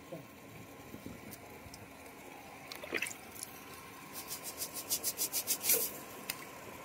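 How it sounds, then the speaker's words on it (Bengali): Prawns being washed by hand in water, with soft rubbing and wet splashing that builds into a quick rhythmic run of squelchy scrubbing strokes near the end, close up and fairly quiet. "তো মাছগুলো আমি এখন ধুয়ে নিচ্ছি।"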